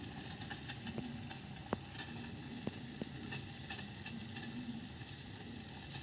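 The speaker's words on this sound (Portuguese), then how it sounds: "Essa água já tá fervendo." Steady bubbling and hissing of water boiling in a pot, fairly quiet and continuous, with a few faint clinks.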